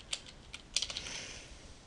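A handful of keystrokes typing a single word on a computer keyboard, soft close clicks in a short uneven cluster, heard alone in a quiet room.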